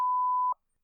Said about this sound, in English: That is beeped, and it wasn't even profane.